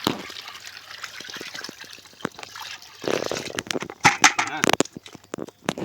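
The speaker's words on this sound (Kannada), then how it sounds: "ಹೊಸ ನೀರು ಮತ್ತೆ ನೋಡಿ ಫ್ರೆಶ್ ನೀರು" Fresh water splashes and trickles as it is poured over mushrooms being washed for a sambar, with irregular close sloshes growing louder toward the end.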